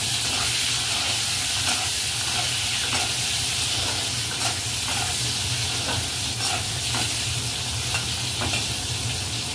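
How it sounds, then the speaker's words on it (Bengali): New potatoes frying in hot oil with bay leaf, a loud steady sizzle and hiss up close, with periodic scraping stirs of a spatula in the pan and no talk. "এবার আলুটা একটু লাল করে ভাজা হোক"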